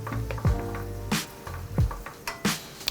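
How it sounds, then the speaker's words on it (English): Shallots sautéing in a pan, a soft sizzle punctuated by several sharp clinks and scrapes of stirring, close and moderately quiet with no talking. "I want to saute that up until it becomes nice and fragrant"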